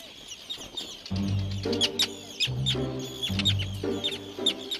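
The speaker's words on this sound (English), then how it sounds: "The terns decide to settle here." Terns calling at their river nesting island in the Western Isles of Scotland, a run of close, loud, harsh squawks and chattering cries repeating over several seconds, with no voices.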